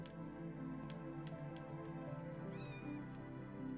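Cat meowing in the video game Minecraft, short mewing calls over a steady, loud bed of game music or background hum, with no talk.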